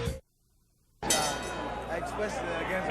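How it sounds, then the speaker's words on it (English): A boxing bell clangs to open round five of the 1975 Muhammad Ali fight, a loud metallic ring with a sustained ringing tail, heard over an arena crowd's chatter after a brief silence. "The bell sounds."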